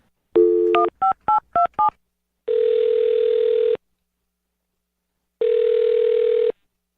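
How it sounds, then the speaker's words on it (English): A telephone number being dialed: a short burst of touch-tone beeps in quick succession, followed by two long, steady dial tones separated by silence, loud and clear. "I'm going to dial this phone number right now"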